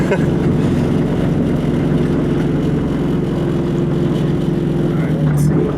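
A Honda Civic with a straight-pipe exhaust rumbles loudly and steadily close by. The engine holds a deep, continuous drone throughout, with no clear revs or pauses.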